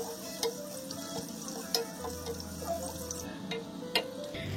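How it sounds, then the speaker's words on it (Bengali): Chopped onions being lightly fried and stirred in oil for beef bhuna, a quiet low sizzle running throughout with a few sharp clicks of a spoon against the pan. "এখন এগুলো নেড়ে ছেড়ে হালকা করে ভেজে নেব"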